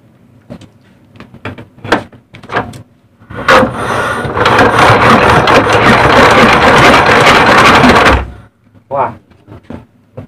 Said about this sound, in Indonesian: kita sekarang cek, hidupkan dulu mesinnya ya guys